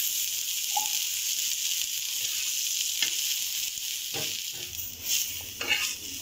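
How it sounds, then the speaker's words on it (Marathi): Onion sautéing in oil in a pan while Malvani-style mushi masala is made: a steady close sizzle with brief scraping stirs and a few sharper spatters. "मी हा कांदा थोडा परतून घेतलाय। त्याच्यामध्ये थोडंसं मी तेल घालते"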